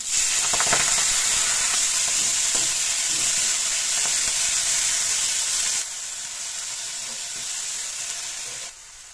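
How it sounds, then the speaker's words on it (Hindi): Fenugreek leaves sizzling in a pan while cooking for soup, a steady loud frying hiss with occasional stirring clicks, easing slightly quieter toward the end, with no talking. "यहाँ पे मैंने मेथी थोड़ी देर पकने के लिए रख दी है"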